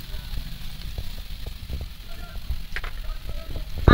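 Onion, ginger paste and spices fry in a pan for fish curry, a soft continuous sizzle with faint crackles and occasional stirring taps, fairly close and low in level.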